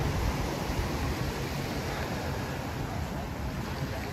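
Steady surf on the beach at Playa de Oro in Vallarta, Mexico, a continuous broadband wash of breaking waves with a wind-like hiss, holding at an even level throughout with no voices.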